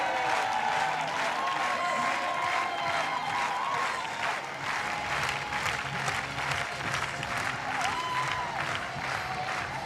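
Spectators in the stands at the Munich 2022 European Championships triathlon relay give sustained, dense applause and cheering that stays level for the whole stretch, with occasional whistles rising above the clapping.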